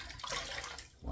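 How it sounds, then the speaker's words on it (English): A shaving brush being rinsed in a sink full of water, a short close swish and slosh of water with a splashy burst at the end. "Wash that off in a sink full of water."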